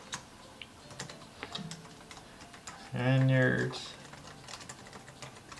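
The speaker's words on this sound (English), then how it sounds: "I just typed this, so maybe I'm gonna be faster because I'm retyping the same thing." Rapid keystrokes on a computer keyboard during a typing test, a light steady patter of clicks close to the mic, with a person speaking briefly over it.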